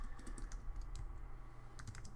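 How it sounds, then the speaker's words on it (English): Fingers type on a computer keyboard while taking notes in a Notion page, producing quick, uneven bursts of light key clicks over a faint, quiet background. "let's say I'm just typing along this"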